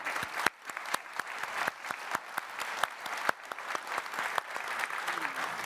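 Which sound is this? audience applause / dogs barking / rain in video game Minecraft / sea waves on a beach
audience applause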